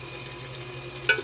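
Noodles and chicken fry in a hot pan with a low, steady sizzle, then a sudden scrape of stirring near the end, close by and with no talking.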